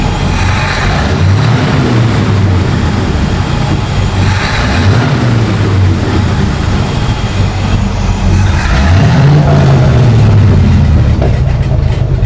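International Loadstar truck engine revving under throttle during a tune-up, loud and continuous, with three rising-and-falling rev swells over a steady idle rumble.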